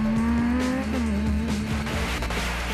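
Castrol Toyota Hilux rally trucks race at high speed across rough, unfriendly terrain at the Carnival City 400 rally in 2010. A loud, close engine howls steadily, with brief dips and pitch shifts as it works over the bumps.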